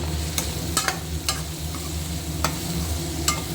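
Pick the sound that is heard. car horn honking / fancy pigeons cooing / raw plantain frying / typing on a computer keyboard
raw plantain frying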